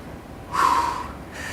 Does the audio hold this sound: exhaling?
yes